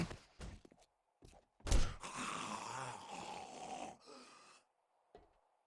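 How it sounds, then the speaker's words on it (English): Zombies snore in the video game 7 Days to Die, a mix of groaning, grunting snores and snorts. They rise and fall in a sustained rumbling burst of a few seconds between short isolated thuds, with no talk. "I can hear them sleeping. Snoring."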